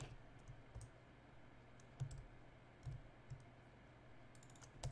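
Quiet, sparse clicks of computer keyboard typing at a desk during a programming session, a few isolated keystrokes over a steady low background hum.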